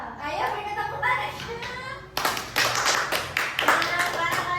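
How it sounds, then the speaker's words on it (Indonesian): Children in a classroom break into a burst of applause, a dense rhythmic patter of clapping hands that follows a teacher's spoken prompt. "Ayo beri tepuk tangan."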